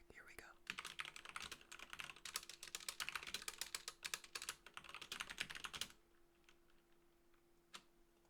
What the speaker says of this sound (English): Typing ASMR real quick.